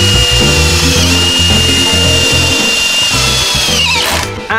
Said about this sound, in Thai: เราก็เอาสกรูเนี่ยยิงเข้าไปกับตัวโครงเหล็กได้เลยนะฮะ